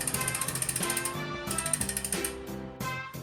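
A Campagnolo aluminium rear wheel freehub, overhauled and packed with thick grease, ticks in quick, fairly soft ratchet clicks that run in bursts and then slow, heard close up and alone.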